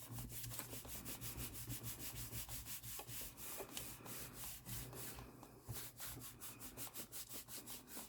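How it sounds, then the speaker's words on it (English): Cardstock is rubbed hard onto a journal page in quick, even back-and-forth strokes, a steady scratchy friction at close range with no voices. "And we're going to rub, rub, rub, rub,"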